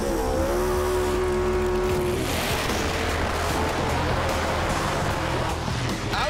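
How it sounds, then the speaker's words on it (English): A street-racing car does burnouts, its engine revving hard with a rising whine before dissolving into a loud, continuous roar of spinning, screeching tires, close by and with no talking. "That was a couple of good burnouts right there."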